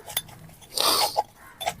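Dishes and metal pots scrubbed by hand in a village home clink and scrape in short bursts, with a louder rattle of pots in the middle, close and without speech.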